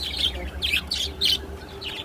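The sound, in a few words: birds chirping outside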